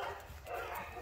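Dog barks, a female dog still recovering at about five months old, come through as short yaps in a kennel setting, fairly close and steady over a second with no talk.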